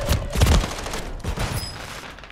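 Rapid bursts of gunfire in the Call of Duty video game, fairly loud and close, a dense volley at the start and another flurry midway.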